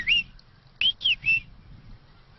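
An older farmhand whistles an imitation of a bem-te-vi's song on a farm, one clear whistled note followed by a quick run of three sharp, close whistled notes, with no talk.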